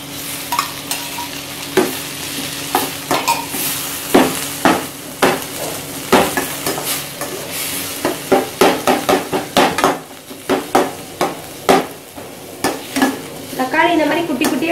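Chopped tomatoes sizzling and frying in a pan for Punjabi-style dal tadka, with green chillies already sautéed, while a spoon stirs and scrapes in steady repeated strokes, close and fairly loud, with no talking.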